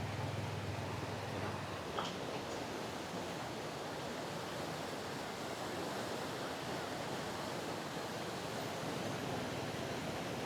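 Water flowing after heavy rain in Siem Reap, a dense, steady rushing wash that stays constant and fairly close throughout.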